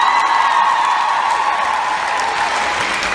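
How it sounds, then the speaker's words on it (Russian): A concert audience at a festive city celebration claps loudly and continuously, a dense, steady wash of applause with a few faint whoops mixed in. "аплодируйте мне громко"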